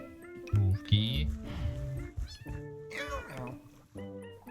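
Cats meowing in the Minecraft video game, several short, fairly loud mews in quick succession, some overlapping, with game ambience between them.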